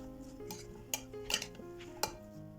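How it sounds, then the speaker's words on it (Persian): Sliced zucchini being mixed with salt in a bowl, with a few faint clinks and scrapes of a utensil against the dish over quiet background. "کدوها رو با نمک مخلوط میکنیم."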